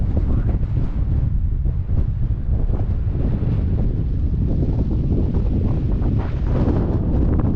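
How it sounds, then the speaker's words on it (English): Strong wind blows across an open mountain viewpoint in Big Bend National Park, buffeting the microphone with loud, continuous low rumbling gusts and no speech. "Windy up here, wow. Definitely blowing."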